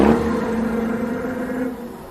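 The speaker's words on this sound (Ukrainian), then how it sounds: "На вулиці чути гомін машин." A car engine hums steadily nearby, a low droning tone that slowly fades toward the end.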